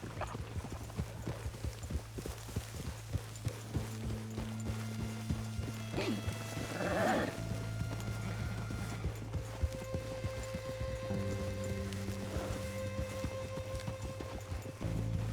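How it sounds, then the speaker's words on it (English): Horse hooves clip-clop at a steady riding gait in Red Dead Redemption 2, with a brief snort or whinny partway through and tack jingling under a low ambient hum. "Mount up then, Morgan."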